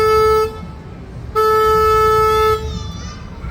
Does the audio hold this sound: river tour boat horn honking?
yes